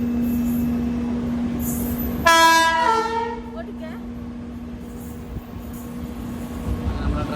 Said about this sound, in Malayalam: അങ്ങനെ പാലക്കാട് പോകേണ്ട ട്രെയിൻ വന്നു